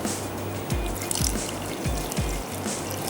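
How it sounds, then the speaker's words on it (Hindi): Water poured into a cooking pot while making stir fried chicken in oyster sauce, a soft trickling splash running steadily for a few seconds with small gurgles and drips near the microphone. "पानी मुझे इसमें कम लग रहा है तो मैं पानी थोड़ा सा इसमें और शामिल कर देती हूँ"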